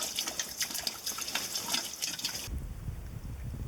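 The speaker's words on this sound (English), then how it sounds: "We're encouraging lots of muddy water to flow down." Muddy water runs and trickles steadily downhill, then the sound abruptly shifts to a lower, duller gushing flow.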